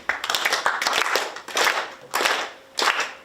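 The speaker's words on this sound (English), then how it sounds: "I want everybody to clap their hands." An audience claps hands along in rough rhythm during a sing-along, bursts of many hands loud and close, swelling and pausing in groups with no voices.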